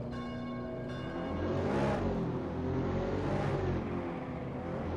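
A BMW M235i's engine revs during drifting, its droning pitch rising and falling in surges, loud and close with a whirring tone and no talking.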